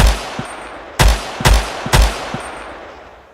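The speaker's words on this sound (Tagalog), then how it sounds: "Sunod-sunod na putok ang pinakawalan ni Robbie." Rapid bursts of gunfire in a Filipino aswang audio drama, sharp loud cracks in uneven succession, about six shots over a few seconds with short echoing tails, alone without speech.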